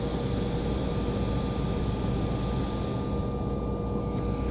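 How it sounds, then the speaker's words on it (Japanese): A Japan Airlines airliner taxiing to its parking stand, heard from inside as a steady, loud engine drone and cabin rumble with a constant whine, continuous and even, no voices. "またこの飛行機は間もなく駐機場に到着いたします。"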